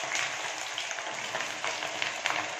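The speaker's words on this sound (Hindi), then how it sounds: "अब इसमें हम प्याज डाल देंगे, डेढ़ मिनट तक फ्राई कर लेंगे हम।" Sliced onions frying in a pan of hot oil for biryani, giving a steady soft sizzle and crackle with small pops scattered throughout, fairly quiet and close, with no talk.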